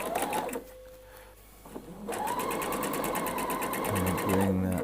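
A sewing machine stitches a dress seam in a steady, whirring run with a rapid even needle rhythm, slowing briefly and then restarting, close and clear.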